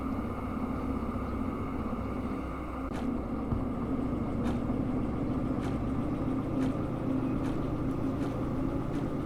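A fully damaged S282 steam locomotive in Derail Valley gives off a steady mechanical rumble and hum, broken by sharp clicks or knocks that repeat at roughly regular intervals, with no talking.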